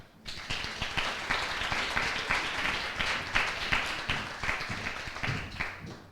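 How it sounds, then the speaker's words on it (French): A crowd applauds steadily at an eloquence contest semi-final in Le Mans, many hands clapping in a dense, sustained wash of sound at moderate volume, with no talking over it. "Donc je pense qu'ils méritent des applaudissements."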